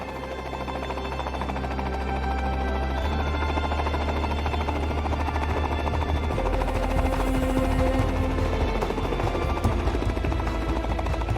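A helicopter flies toward a mountain ridge in the Australian wilderness, its loud steady rotor and engine drone filling the cabin throughout with a deep pulsing beat.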